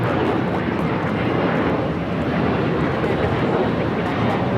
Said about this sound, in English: This is Alaska Airlines 1412 taking off to Liberia on the 737-900ER